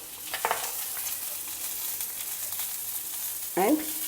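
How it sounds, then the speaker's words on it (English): Sliced onions stir-fried with turmeric powder give a quiet, steady sizzle in the pan, with a couple of short scraping stirs near the start and again near the end. "stir fry the onions, add some turmeric powder"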